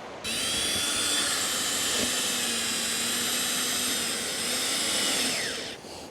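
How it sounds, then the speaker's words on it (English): A steady, high-pitched power drill whine drives screws continuously for several seconds, close and loud, then cuts off near the end. "Just need to drill them in now."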